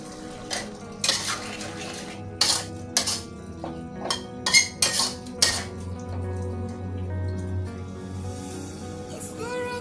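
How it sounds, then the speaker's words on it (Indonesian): Utensils scrape and clink against a pan as tempe and long beans are stirred, with sharp metallic knocks in bursts over a steady low kitchen hum. "Ini kita aduk dulu."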